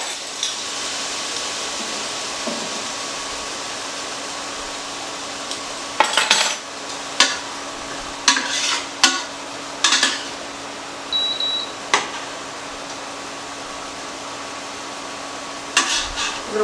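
Onions with salt cooking in a pot, a low steady simmer under bursts of metal spoon clinks and scrapes against the pot as they are stirred, close and without speech.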